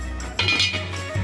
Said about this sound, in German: Einmal kräftig aufkochen. Deckel drauf.